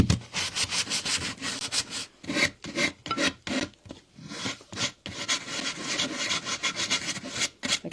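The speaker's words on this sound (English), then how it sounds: "Little hand sander." Small hand sander rubbing over a wooden piece being prepared for milk paint, with quick uneven scratchy strokes up close, broken by short pauses, no voices.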